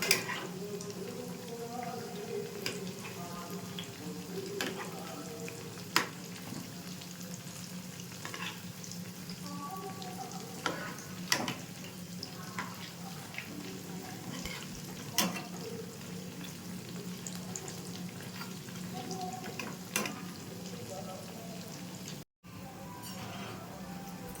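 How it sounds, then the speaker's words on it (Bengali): Khaja pastries fry in refined oil in a wok, giving a steady bubbling sizzle throughout with occasional clinks and stirring scrapes, close and continuous with no talk. "কড়াইয়ে পরিমাণ মতো রিফাইন তেল দিয়ে দিচ্ছি, খাজাগুলো ছেড়ে দিচ্ছি"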